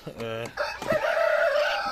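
A heavy rooster crows loudly nearby among hens, a long strained call that follows a brief clucking note.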